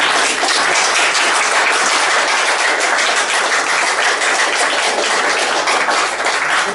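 Sustained congregation applause at a Sunday church service, dense steady clapping from many hands filling the room at an even loudness throughout, with no voices standing out.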